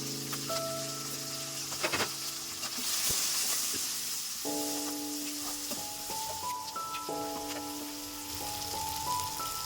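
Onion and green chilli frying in a pan of oil for a Telugu-style bottle gourd curry, a steady close sizzle and crackle with soft stirring scrapes, with no voice.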